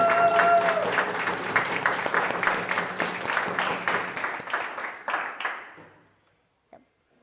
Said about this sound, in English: Too much clapping.